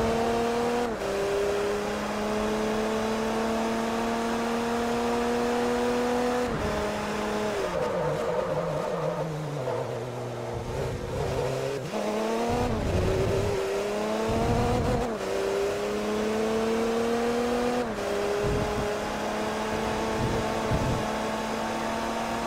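A race car engine in the Forza Motorsport 3 video game runs loud and continuous, revving high, dropping sharply through downshifts around a corner, then climbing back up through the gears.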